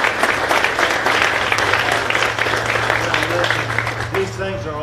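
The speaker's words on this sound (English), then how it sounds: "Let's give him a round of applause" Audience applause at an Air Defense Artillery Brigade change of command ceremony, a steady dense round of clapping with a low hum beneath, tapering as a voice begins speaking near the end.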